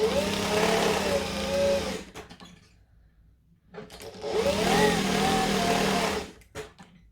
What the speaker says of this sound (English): I'm just going to take a piece of fabric and stitch 2 short sections